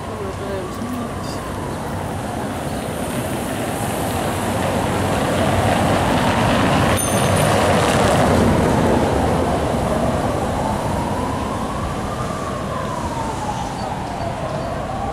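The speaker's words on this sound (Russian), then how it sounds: "Рядом трамвайная остановка." A tram passes a stop in Riga, its loud, rumbling roar swelling through the middle and easing off, with a wavering, siren-like squeal rising and falling over the noise.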